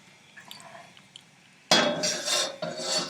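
A large, thick-bottomed frying pan is set down on a stove with a sudden loud metallic clank, then scrapes and rattles briefly before a second clunk, after quiet faint handling noises.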